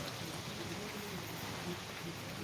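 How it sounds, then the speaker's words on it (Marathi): Steady soft rain hiss during a thunderstorm, a continuous wash of fine patter with no distinct drops standing out, fairly quiet throughout. "गडगडाक सुरू झालेला आणि पाऊस पण सुरू झालेला"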